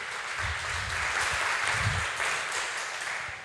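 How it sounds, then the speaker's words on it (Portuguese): Church congregation applauding in praise during a Portuguese-language worship service, a steady dense wash of many hands clapping at moderate distance with no speech over it. "Vamos aplaudir o Senhor Jesus?"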